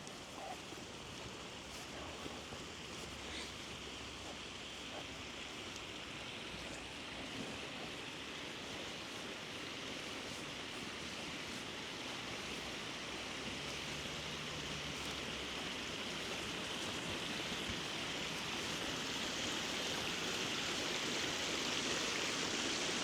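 Continuous flowing water in a park, a broad steady rush like a stream or weir that grows slightly louder, with no voices.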